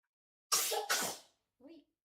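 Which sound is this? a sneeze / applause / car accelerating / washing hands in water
a sneeze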